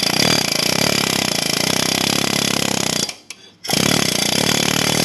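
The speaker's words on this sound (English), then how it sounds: "once you get a little bit of a groove kind of beat in there with the air chisel" An air chisel hammers loudly and continuously on a stuck Polaris Trail Boss axle nut, a harsh rapid pneumatic rattle up close that cuts out briefly for a fraction of a second before starting again.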